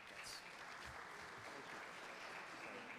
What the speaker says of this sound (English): Another round of applause, if you please.